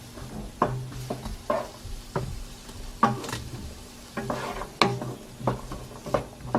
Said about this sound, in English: I'm going to let the onion fry a little bit